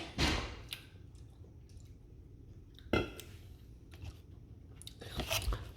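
Someone bites into crunchy pickled cucumber and chews it, with a few sharp crunches and softer chewing in between. The sounds are close and quiet over a low background hum, without talk.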